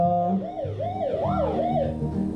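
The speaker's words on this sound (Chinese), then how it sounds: "哦，玩具警车，" Wailing electronic siren of a toy police car in a surprise eggs app game, a steady rising-and-falling wail with layered tones, loud and continuous throughout with no talking.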